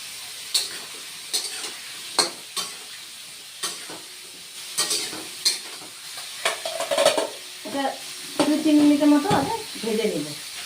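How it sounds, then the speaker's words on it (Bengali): Potato and papaya pieces fry in a pan with a low sizzle, punctuated by sharp, repeated spatula knocks and scrapes against the metal, close and intermittent, with no speech. "বন্ধুরা আমার আলু আর পেঁপে ভাজা হয়ে গেছে"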